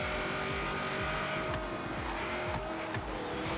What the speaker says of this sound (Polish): teraz wcisnąłem dopiero gaz do końca.